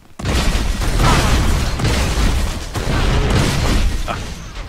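Rockets explode in a rapid barrage of heavy booms and bursts during an Unreal Tournament 4 match, loud and continuous, with brief dips between the blasts.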